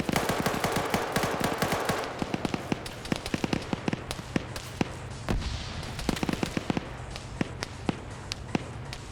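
Rapid, sharp gunshots crack in irregular bursts through an Arma battle in a Soviet-Afghan war scenario, some close and loud, others farther off, dense at first and thinning into scattered volleys.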